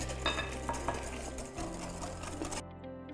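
A whisk beats custard with a little milk in a bowl for crema catalana, rapid scraping and tapping strokes in a busy rhythm, close and moderately loud.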